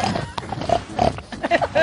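A pig grunts and snorts in a run of short, nasal bursts mixed with continuous talk over the top, all fairly loud and close.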